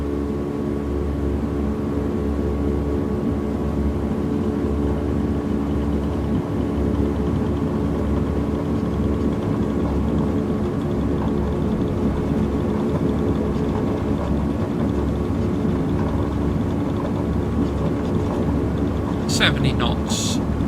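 Steady, loud engine roar of a Martel Air Freight aircraft at maximum throttle on its takeoff roll, a continuous dense drone with a few brief higher bursts near the end.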